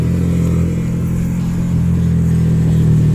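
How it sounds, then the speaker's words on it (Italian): A KTM 1290 Super Duke GT engine roars loudly and steadily nearby between curves on the Stelvio mountain road, its deep drone holding a constant pitch with some mechanical clatter. "lo sentite urlare tra una curva e l'altra, è il motore"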